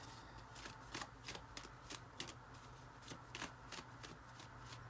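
Tarot cards are shuffled and drawn by hand in a quiet room, a rapid run of soft flicking riffles and slaps repeating steadily at close range, faint overall, with no voices.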